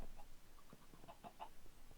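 Several chickens cluck in a series of short, soft calls inside a house in the Minecraft video game, fairly close and with no talking.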